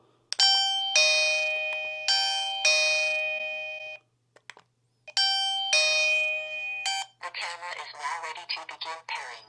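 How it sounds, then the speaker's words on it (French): A wireless WiFi video doorbell plays its chime twice, each a bright melodic sequence of ringing tones. A short pause separates the two, and a voice follows near the end. "Voilà donc le petit bouton pour lancer, donc pour que les personnes puissent sonner chez vous."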